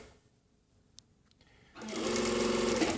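A sewing machine stitching a jacket sleeve starts up after a quiet pause with a few faint clicks, then runs in a loud, steady, close whir.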